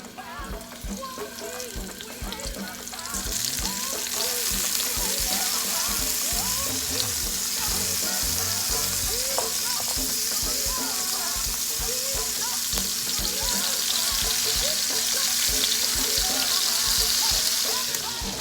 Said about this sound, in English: we're going to go ahead and add in our shrimp and let it sizzle